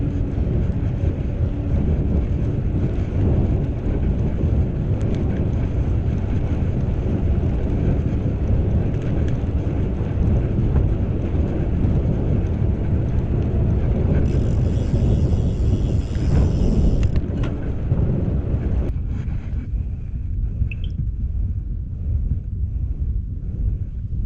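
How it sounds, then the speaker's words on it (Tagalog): Rain growing heavier during a solo bike ride in the rain, a dense steady hiss and roar mixed with wind buffeting the microphone, continuous and loud, easing slightly near the end. "Medyo lumalakas na yung ulan."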